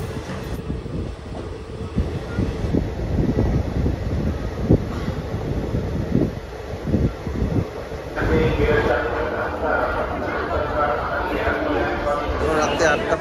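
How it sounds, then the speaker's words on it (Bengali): A train pulls out of Shankarpur station on a journey from Kolkata toward Vrindavan, with a steady, close rumble of wheels and carriages that grows brighter and louder partway through as it gathers pace. Faint voices sit beneath. "এখন এই শঙ্করপুর স্টেশন ছেড়ে বেরিয়ে যাবে"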